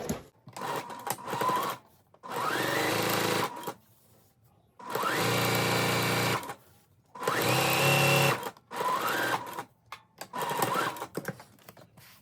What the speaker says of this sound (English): we're going to sew the channels for the elastic